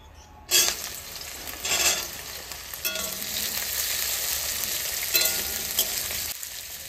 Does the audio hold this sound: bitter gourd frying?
yes